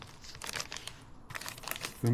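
A foil survival blanket carried as ultramarathon gear crinkles and rustles in bursts close by, with a short pause midway, then a brief thump at the end.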